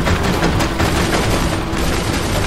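A gunner's machine gun fires in sustained loud bursts in the video game Tales from the Borderlands, dense rattling shots blending with booms and battle noise, close and continuous.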